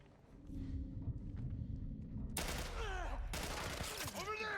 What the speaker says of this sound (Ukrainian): А, автомат! Нова зброя.